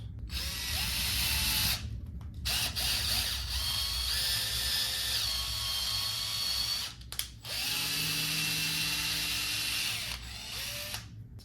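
A power driver runs a screw through 3D-printed support material packed in screw holes, giving several close bursts of whining, ratcheting drilling separated by short pauses, with pitch shifting as the screw bites.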